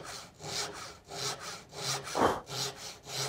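Hand saw cutting a dovetail in plywood, seven steady back-and-forth strokes with a raspy, rhythmic rise and fall, close and alone.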